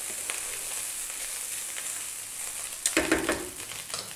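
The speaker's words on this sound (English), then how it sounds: "That is your rice frying." Rice with carrot sizzles steadily in a hot pan, close and fairly faint. Near the end a burst of scraping and stirring breaks in, and no one speaks.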